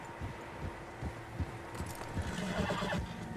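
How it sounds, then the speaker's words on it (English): Horses in the video game Red Dead Redemption 2 give a loud whinny near the end over soft, irregular hoof clip-clops and a low ambient hum. "Horses, quite a few of them."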